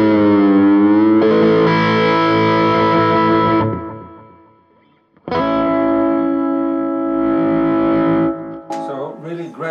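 An electric guitar runs through a NUX analog delay reissue pedal, with a long sustained chord and ringing repeats that fade to near silence before a second strummed chord rings out, loud and alone.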